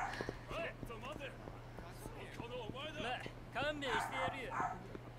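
A pet dog yips and barks repeatedly indoors in quick uneven bursts, with whimpering tones mixed in between the barks.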